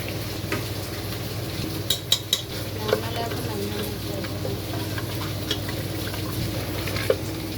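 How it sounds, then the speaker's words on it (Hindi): Masala sizzles and fries in ghee in a pan while being stirred, a steady dense crackle with occasional sharp clinks of a spoon against the pan, close and continuous. "साथ साथ घी डाला और इसकी अच्छी तरीके से भुनाई करेंगे ताकि इसमें ज़रा सा भी कच्चापन बिल्कुल ना रहे"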